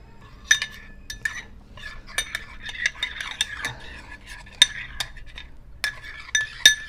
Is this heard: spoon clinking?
yes